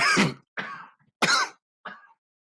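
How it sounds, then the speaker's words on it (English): Two pairs of sharp, close coughs with throat clearing, each burst followed by a quieter one, separated by brief silences. "just cough in the mic"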